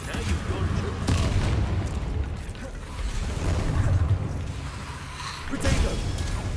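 Confringo blasting spells go off in Hogwarts Legacy as several heavy booming explosions, loud and rolling, with a strong burst near the end and combat clamor filling the gaps.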